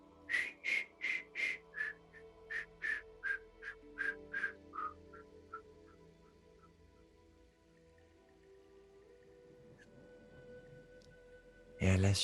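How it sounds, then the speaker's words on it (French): A shaman whistles a melody in a series of short, bright, regularly spaced notes that gradually fade and slow, followed by quiet and a sudden louder noise at the end. "Et le voici en train de siffloter"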